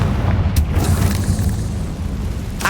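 The Confringo fire spell goes off in Hogwarts Legacy as a loud, rumbling explosion that booms at once and keeps roaring through the moment, with a brief sharp burst near the end.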